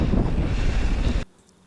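Strong wind buffets the microphone outdoors at a downhill mountain-bike racing venue, a loud continuous low roar that cuts off abruptly near the end, leaving near silence.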